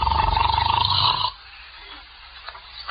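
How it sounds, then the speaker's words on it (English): A man snores loudly in an old time radio drama, a rough, buzzing rattle pulsing through the first second, then fading into quiet with a soft sound at the end. "must you start snoring as soon as you close your eyes?"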